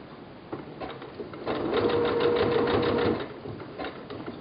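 A sewing machine stitches binding onto a bodysuit, running in one steady, close whirring burst of about a second and a half, with quieter handling sounds before and after.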